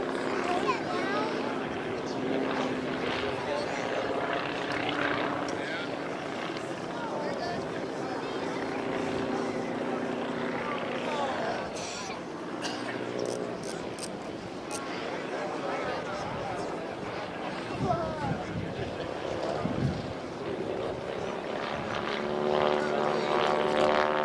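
Propeller warbird at an air show, a privately owned P-17 flown by its pilot, droning steadily at a distance for the whole stretch while an announcer talks over the PA.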